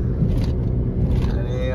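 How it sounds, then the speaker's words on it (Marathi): A Nissan car drives along a highway on a monsoon trip, and from inside the car its engine gives a low, steady, close rumble with a little road noise. "हायवे तरी पण GT सारखा आवाज येतोय या निसानचा"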